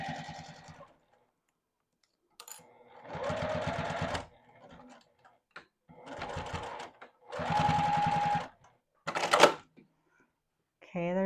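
A domestic sewing machine stitches the corner of a fabric side sack, running in several short bursts of rapid whirring with pauses between them, while a voice talks in the gaps.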